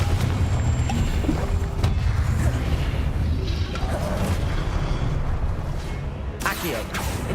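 Confringo blast spell erupting in Hogwarts Legacy, a dense, continuous rumbling roar of explosive noise with a sharp crackling burst near the end, voices mixed in underneath.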